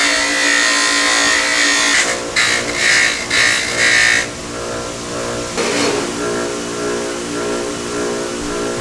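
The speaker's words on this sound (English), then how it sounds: "Now I just gotta remove the Cerakote from the outside with the polisher," A polisher grinds Cerakote coating off the outside of an exhaust manifold, a loud, steady, high whine that bogs and surges in bursts as the tool is pressed against the metal, with no voices.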